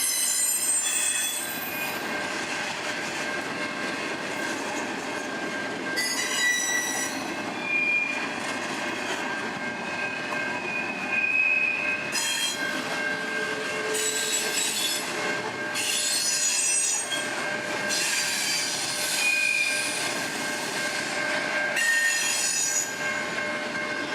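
A double-stack freight train rolls past at close range on an early morning in Dalton, Georgia, with steady rumbling rail noise throughout and repeated high wheel squeals rising and fading over the length of the pass.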